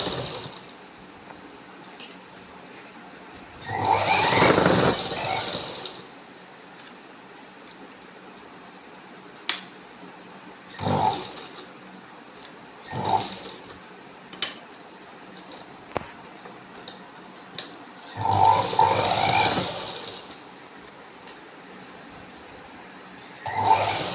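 A sewing machine stitches a zip onto a handbag in short, separate runs of whirring, each a second or two long, with quiet pauses between the bursts.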